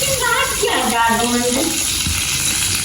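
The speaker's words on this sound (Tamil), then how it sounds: "இப்போ எண்ணெய் கொஞ்சம் போட்டாச்சு இப்போ கறி மிளகாய் விட போகிறோம்" Curry chillies dropped into hot oil in a home kitchen, giving a close, steady frying sizzle with some stirring, while a voice talks briefly over it.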